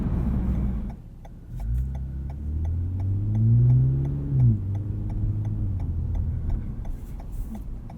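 A 2020 Toyota Camry TRD V6 with a louder exhaust drones from inside the car while driving, its engine note climbing and then dropping sharply as it shifts, over a steady rhythmic ticking.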